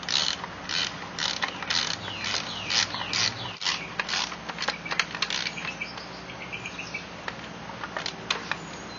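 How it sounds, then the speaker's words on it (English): Rapid, light ratchet clicks in repeated bursts as the last bolt is backed out of a 60 HP Johnson Evinrude outboard lower unit, close and moderately quiet, with faint metallic ticks between the bursts. "So I'm gonna go ahead and take that last bolt out of there"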